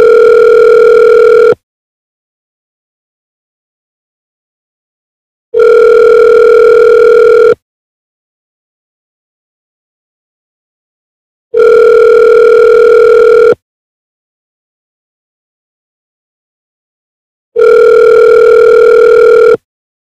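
A landline telephone sounds a steady electronic tone in four loud, evenly spaced bursts of about two seconds each, with silent gaps between them and nothing else audible.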